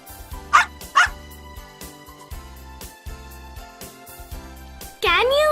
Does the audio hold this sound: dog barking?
yes